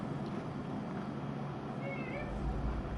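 A cat meows, a short cry partly covered by a person talking, with low engine-like hum from the Mass Effect 2 Legendary Edition game in the background.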